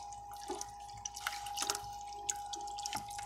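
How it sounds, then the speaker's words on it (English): Acid solution draining from a hose into water while cleaning a marine air conditioner: faint, irregular drips and small splashes over a steady low pump hum, heard alone. "Just want to set it up where it drains well."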